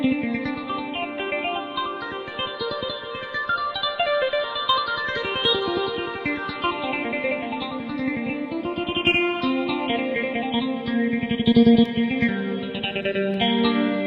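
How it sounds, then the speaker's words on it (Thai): A Yamaha PSR-640 keyboard's guitar voice plays a continuous melodic line, bright and heavily processed with chorus and echo, alone without talk. "เนี่ยเสียงกีตาร์นะครับ"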